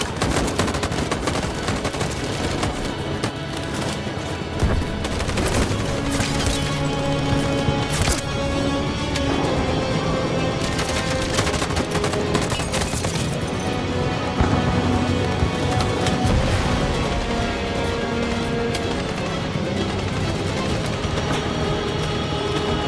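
Sustained gunfire in Detroit: Become Human crackles through a dense action scene, with repeated shots and volleys layered over music and effects for the whole stretch.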